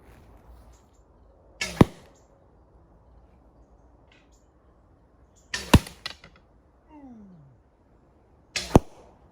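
Wooden blunt arrows shot from a bow in the woods strike bags, giving three sharp, loud thumping impacts spaced several seconds apart, with a faint whooshing flight sound between two of them in a quiet outdoor setting.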